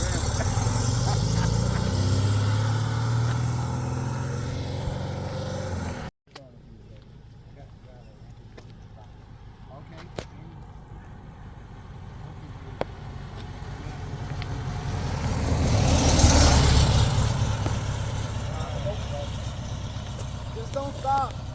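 A 1972 Porsche 914 air-cooled engine idles and strains as the car creeps up a trailer ramp, swelling louder near the end, with people talking over it.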